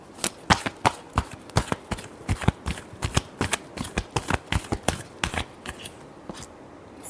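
A tarot deck is shuffled by hand in quick, crisp riffling bursts, the sharp card slaps repeating rapidly and closely with no talk over them.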